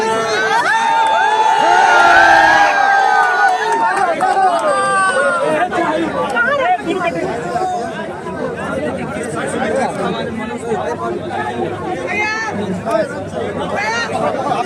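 A big election rally crowd talking and cheering, a loud steady roar of voices with shouts rising above it near the beginning and scattered calls throughout.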